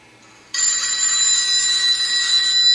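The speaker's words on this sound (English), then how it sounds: "This is actually a recording of a classic Western Electric 302 telephone ring." A recorded Western Electric 302 telephone bell, electronic-sounding, rings continuously after a brief quiet start, bright and steady, with no pause over the remaining seconds.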